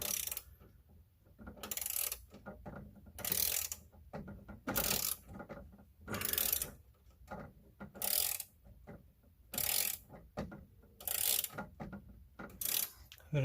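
Ratchet clicking in steady bursts while turning coil pack bolts on a 1999 Ford F-150 with the 4.6L engine, about nine close, loud runs of rapid clicks separated by short pauses.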